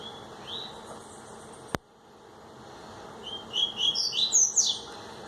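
A small bird chirps in a quick series of high, bright notes, preceded by a single sharp click and a faint background hiss.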